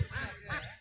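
Ducks on a marshy wetland beside a main road give a couple of quick nasal quacks, fairly close and clear, with no talk.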